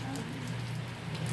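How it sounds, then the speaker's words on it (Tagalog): Heavy rain falls outside a house in South Korea, a dense, continuous hiss of drops striking surfaces, with a low steady hum underneath. "gusto ko lang sabihin na umuulan sa South Korea"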